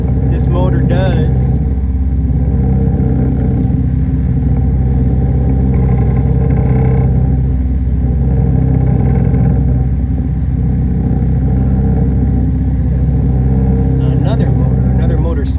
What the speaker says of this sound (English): Another motor sound.